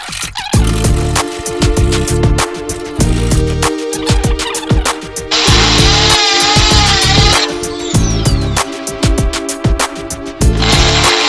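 A loud power tool bores holes for a homemade mini water pump, running in continuous stretches with brief pauses, harsh and whining, with a higher screeching stretch midway.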